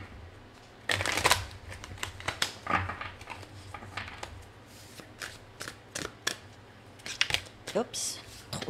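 Tarot cards being shuffled, with bursts of crisp riffling and shuffling snaps that come and go irregularly, close and clear, with scattered soft talk between them.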